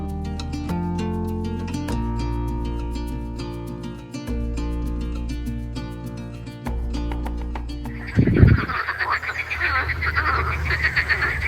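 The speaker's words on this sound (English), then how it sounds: "Guessing that noise is a bunch of frogs." A chorus of frogs croaks along a rainy downhill hiking trail on the Via Podiensis near Estaing, France. Steady layered croaking fills the first stretch, then gives way to louder rustling and rain-soaked movement noise close by.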